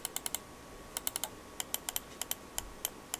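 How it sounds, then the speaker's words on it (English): Buttons on a Philips SPK9314 wired computer mouse with Ambiglow clicking in quick, crisp, close-up bursts, some in rapid pairs and triplets, alone and fairly faint. "Nice clicking sound."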